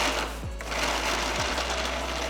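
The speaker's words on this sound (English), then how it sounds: "Add half the quantity of the meat mixture into the mixer jar." Mixer grinder running on a mutton shami kebab mixture, a loud continuous motor whine with a couple of brief dips in pitch as it is pulsed.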